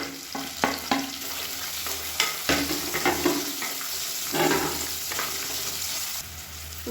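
Long-sliced onion sizzles in hot oil in a pan after mint and coriander go in for a channa kuruma, with a spoon scraping and stirring in irregular strokes close up.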